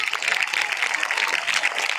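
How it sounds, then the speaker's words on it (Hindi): An audience claps steadily and densely for the organisers at a school gathering, a full, even wash of hand claps lasting the whole moment. "चलिए तो दीजिए उनके लिए तालियां अच्छे से"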